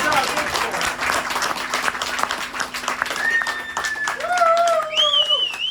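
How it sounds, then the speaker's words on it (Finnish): Concert audience at a show breaks into dense, sustained applause that carries loudly throughout, with voices talking over the clapping near the end. "nyt on lupa taputtaa, jos siltä tuntuu"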